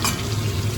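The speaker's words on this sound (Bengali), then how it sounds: "চিকেনের আলু এখন ভাজা হচ্ছে" Potatoes frying in a pan for a chicken dish, a dense, continuous close sizzle with a bubbling, watery texture that holds steady throughout the short stretch, no voices.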